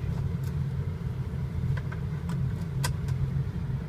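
A car engine idles steadily, its low, even rumble continuous and close after about an hour of running, with faint clicks and jangles on top and no talk.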